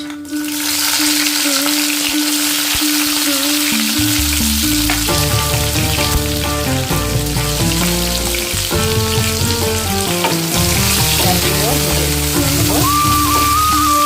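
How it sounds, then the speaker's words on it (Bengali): Chopped onions fry in hot oil with nigella seeds, a steady crackling sizzle running under loud melodic background music for the whole stretch. "লাল লাল করে ভেজে নিতে হবে পেঁয়াজগুলো"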